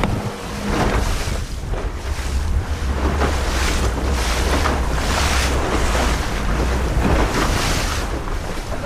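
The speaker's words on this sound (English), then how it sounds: "Not bad, it's just windy and choppy." Choppy sea waves slosh and slap around a small fishing boat as gusty wind roars across the microphone. The loud, continuous surge carries on with no one speaking.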